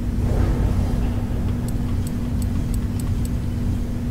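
A Porsche race car in Forza Horizon 4 holds a steady engine drone with a strong low hum and a few faint ticking clicks, with no one speaking.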